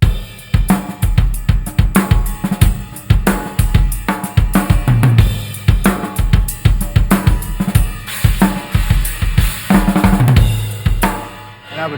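Rock drum kit: a loud, driving groove of dense kick, snare and cymbal hits, with bright china cymbal crashes accenting the beats throughout.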